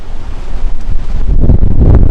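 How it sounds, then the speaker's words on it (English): A strong gust of wind in a dust storm buffets the microphone with loud, roaring low rumble that builds and intensifies over two seconds, with no voices. "here comes a gust of wind"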